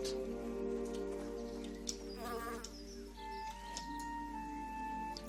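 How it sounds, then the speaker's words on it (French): Wasps buzz in the fantasy role-playing game Lords of Xulima, a faint, shifting insect hum with layered tonal whines and small clicks, alone without speech. "Des guêpes. Des vilaines guêpes."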